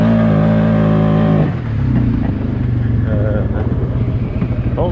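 A 450 dirt bike fitted with an EPI clutch kit revs hard and tries to spin its tires, a loud high-pitched whine that drops into a lower, pulsing rumble as the rider keeps on the throttle.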